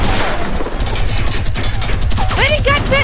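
A minigun fires in the Fortnite video game as one loud, continuous burst of rapid gunfire throughout, with short whistling chirps near the end.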